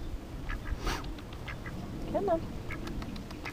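A duck quacks briefly at mid-distance amid outdoor bird ambience, with a person speaking softly nearby.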